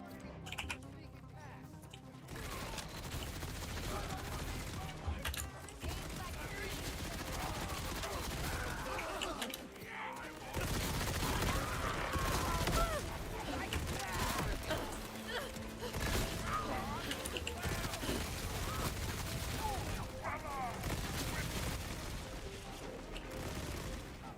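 Dense, nearly continuous video-game gunfire, rapid shots and bursts piled into a loud, busy clatter that runs for long stretches, with a voice talking over it.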